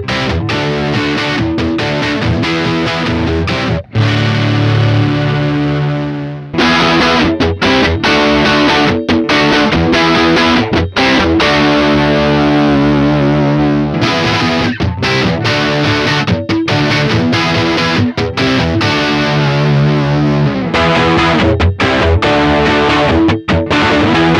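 Electric guitar played through USB audio interface amp simulation with varied speaker cabinet models, loud distorted riffs and chords with brief pauses between phrases, alone without talk.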